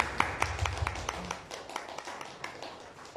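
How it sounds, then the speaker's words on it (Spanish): A handful of people clap at a press conference, sparse and uneven, with distinct individual hand claps rather than a full ovation, close and moderately loud. "Vamos a darle en primer lugar un fuerte aplauso."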